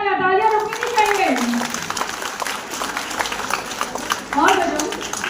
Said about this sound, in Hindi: जोरदार तालियां, तालियां रुकनी नहीं चाहिए।